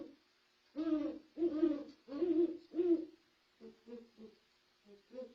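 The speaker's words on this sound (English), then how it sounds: "He started hooting because now there was a single girl around." A great horned owl hoots in a series of deep, resonant calls, four strong hoots followed by several softer, shorter ones, clear and fairly close with no talking.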